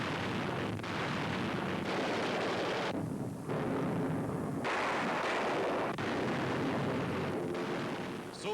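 Constant roar of WWII Nazi anti-aircraft and artillery fire heard from an aircraft flying through it, a dense, steady wash of booms and rumbling with brief dips, loud and unbroken throughout.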